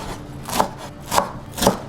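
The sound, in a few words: chopping rolled fresh herbs with a knife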